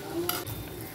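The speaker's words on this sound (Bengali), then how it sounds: "মেটটা ফার্স্টে ভেজে নিচ্ছি" Fish liver frying in a pan, a close steady sizzle with stirring scrapes and a few clinks of utensil on metal, alone without talk.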